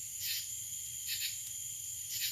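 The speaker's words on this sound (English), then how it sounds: "You can hear the crickets" Crickets chirp in steady pulsing bursts at night beside a country campfire, a thin high trill repeating about once a second over a faint low background hum.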